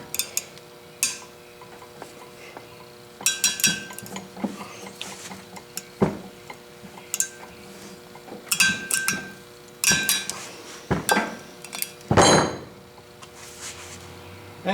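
Broken tap fingers are snapped off with a large tap wrench in a big Ridgid Columbian bench vise, giving scattered sharp metallic clinks, cracks and scrapes in irregular bursts, close up over a quiet workshop hum.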